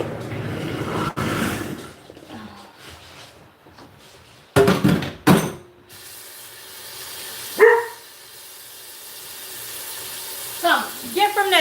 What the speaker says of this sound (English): If you're gonna look out there and bark at people minding their own business in their yard, then you gonna get from the door.